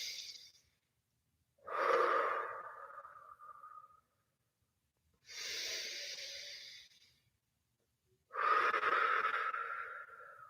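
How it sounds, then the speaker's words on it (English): Slow, deep breaths drawn in and let out during a calm guided pause, three long audible inhale-exhale cycles with airy, rushing texture and quiet gaps between, close and alone. "let us breathe."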